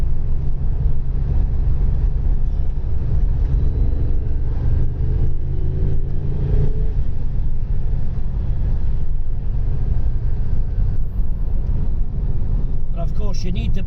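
The one-off Lotus Carlton estate accelerates on the road, heard from inside as a constant loud engine and road rumble with a faint rising engine note, steady throughout.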